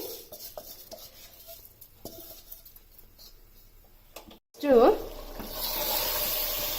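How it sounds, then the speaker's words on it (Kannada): Rice poured into a pot of chicken palav and stirred, with light scraping and clinking of a utensil against the pan, a brief louder rattle of grains going in, then a soft sizzle. "ಇವಾಗ ನಾನು ರೈಸ್ನ ಆ್ಯಡ್ ಮಾಡ್ತಾ ಇದ್ದೀನಿ."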